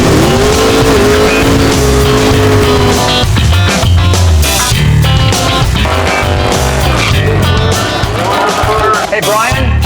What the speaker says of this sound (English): Let's see a little burnout action.